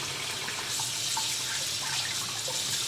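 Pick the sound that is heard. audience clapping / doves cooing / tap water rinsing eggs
tap water rinsing eggs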